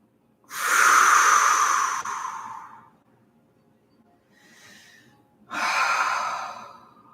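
Deep breathing during a yoga pose, with two long, strong breaths close to the mic, a faint softer breath between them and no talking.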